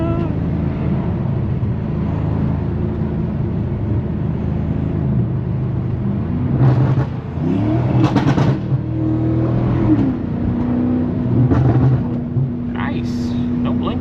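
A BMW F90 M5 rumbles at low revs, its exhaust giving a few short crackling burbles over the steady engine drone, heard from inside the car with people talking over it.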